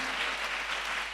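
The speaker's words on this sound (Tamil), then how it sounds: "கைகளை தட்டி Let's all clap." A church congregation clapping hands together during a service, a dense, continuous patter of many hands that stays steady and fairly loud, with no voices.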